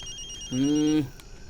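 A single electronic phone ring, a short sustained tone lasting about half a second, over faint background noise.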